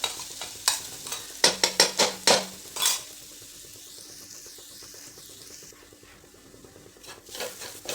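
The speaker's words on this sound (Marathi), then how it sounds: "आणि आपण जो खोबरा आणि लसूण आल्याचा ते मसाला बनवला तो परतून घ्यायचा" Coconut, garlic and ginger masala sautéed in oil in a pan, opening with a quick run of sharp spoon scrapes and clatters, then settling into a low, steady sizzle up close.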